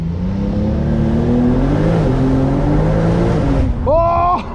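An 820 hp Porsche 911 Turbo S Brabus pulls hard in first gear, its engine note rising loud and close from inside the cabin, then dropping sharply as it shifts up and climbs again.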